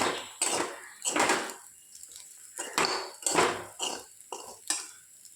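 Vegetables and spices in a pot are stirred vigorously for a taro recipe, loud metal spoon scrapes and clanks against the pot in a run of about eight rhythmic strokes.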